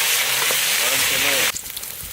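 Food frying in hot mustard oil sizzles loudly and steadily up close in a village kitchen, then drops abruptly to a quieter crackle, with faint voices in the background.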